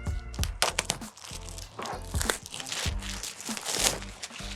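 Crinkly packaging of a Microsoft Surface Laptop Go 3 rustles and tears open by its pull tab in short, sharp bursts close up, with scattered crunching and plastic handling noises.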